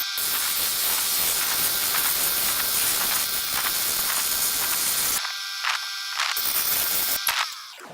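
A 280 grit soft lapidary polishing wheel works a piece of Turritella agate, giving a loud, steady wet hiss that runs continuously, then breaks into short bursts and pauses as the stone is lifted and pressed back.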